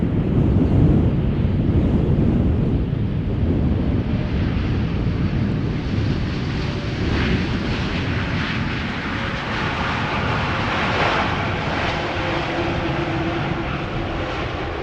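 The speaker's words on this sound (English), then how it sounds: "this is TUI flight 391 returning from Willemstad, Curaçao, Boeing 787-8" A nine-year-old TUI Boeing 787-8 airliner arriving at Schiphol after a long flight from Curaçao, heard as a steady, loud broadband engine roar with wind buffeting the microphone, continuous throughout with no talk.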